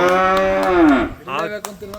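A calf gives a long, loud moo that bends downward, followed by a shorter, quieter call close by.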